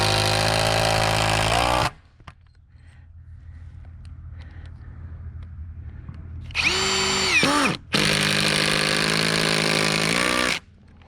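A power drill drives screws into a wooden board fence: two long, loud whirring bursts close by, separated by a quieter pause, with the second burst briefly stopping and restarting.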